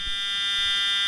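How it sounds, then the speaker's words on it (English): Laboratory safety shower alarm sounding a steady, loud, high-pitched electronic buzzing tone that holds without a break for just over a second, with no voices. "When the safety shower is pulled, an alarm will sound."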